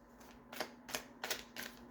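Tarot cards are shuffled by hand in quick, soft riffling bursts, four or five brief papery rustles spaced about a third of a second apart, close and fairly quiet, with a faint steady hum underneath.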